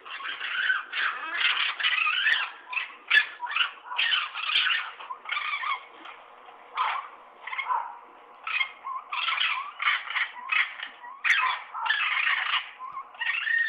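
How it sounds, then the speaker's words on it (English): Harsh, squealing chitters and growling squawks from animals, continuous with short pauses, fairly close and moderately loud, like raccoons mating. "that's the sound of raccoons fucking"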